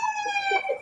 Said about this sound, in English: That's the ambulance taking him.